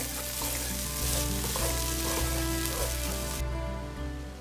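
Onions frying with ginger garlic paste in a pan give a steady, loud sizzle with stirring scrapes, and a low hum runs underneath.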